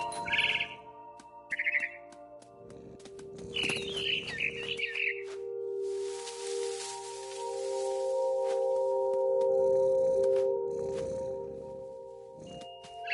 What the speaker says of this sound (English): I tried to be quiet, but the bird was really scared.